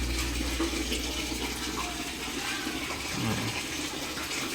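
A washing machine drains water after its leak was repaired, giving a steady, close rush of flowing water throughout with no talking.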